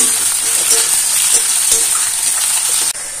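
Onions browning in hot oil in a pan, a close, loud continuous sizzle with faint stirring scrapes, cutting off abruptly near the end.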